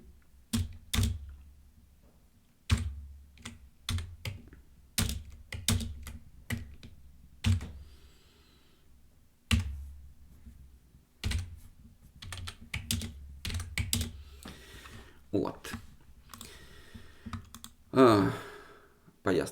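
Keys clatter on a computer keyboard in short irregular bursts with pauses between, close and fairly quiet in a calm room, with a faint breath or sigh near the end.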